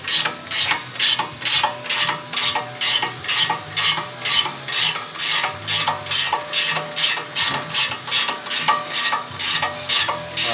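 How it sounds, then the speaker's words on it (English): Ratcheting clicks from a 21mm wrench loosening the upper ball joint nut on a Ford F150 front suspension, a steady, close, loud train of about twenty evenly spaced strokes with no talk. "with a 21mm wrench, disconnect the upper ball joint."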